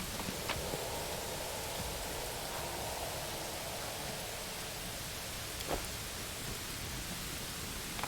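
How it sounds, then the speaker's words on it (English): Steady, dense rain hiss fills the whole stretch without a break in Pathfinder: Wrath of the Righteous, with a couple of faint clicks poking through the constant wash. "Why is it raining blood?"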